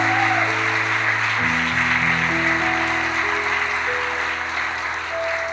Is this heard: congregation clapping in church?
yes